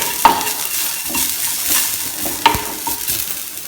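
Garlic sautés in a pan for chole, giving a steady soft sizzle with stirring scrapes and two sharp utensil clicks against the pan, close and moderately loud with no voices.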